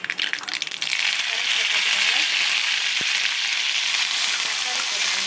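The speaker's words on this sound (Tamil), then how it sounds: "ஆயில் போட்டுடலாம். கடுகு போட்டுடலாம். கடுகு பொரிஞ்சிடுச்சு, லோ ஃப்ளேமில் பண்ணிக்கோங்க." Mustard seeds spluttering in hot oil for a mango jaggery thokku, a burst of sharp crackling pops giving way to a loud, dense, continuous hiss of frying, close up with no talk.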